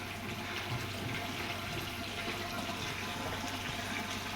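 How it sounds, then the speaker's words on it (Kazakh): Water pours steadily into a livestock trough or container on a farm, a continuous splashing rush held at an even level for several seconds with no voices. "Қазір суын құйдым"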